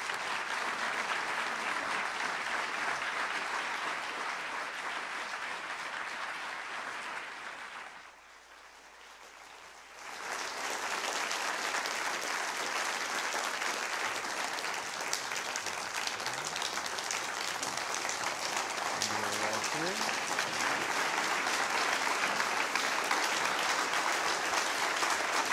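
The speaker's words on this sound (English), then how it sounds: "please let's give our speakers a hearty round of applause" Audience applause after speakers at a public conversation event with Justice Stevens: a long, dense round of clapping that dips briefly to a lull before swelling back, then carries on steadily to the end.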